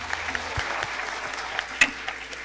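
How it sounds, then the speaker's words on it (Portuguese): A morning camp worship service crowd gives a modest round of clapping, thin and fairly quiet, with a few sharper individual claps standing out, including one loud slap near the end. "eu quero uma salva de palmas"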